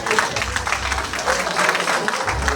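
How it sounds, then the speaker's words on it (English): Audience at a victory party giving themselves a round of applause, a steady, dense wash of clapping that fills the whole moment without any speech over it. "Give yourselves a round of applause."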